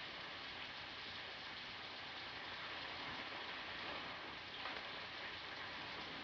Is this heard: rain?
yes